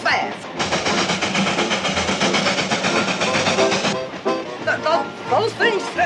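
An old train rumbles and clatters along the rails in a steady roar, with voices talking over the noise, from a 1963 television episode.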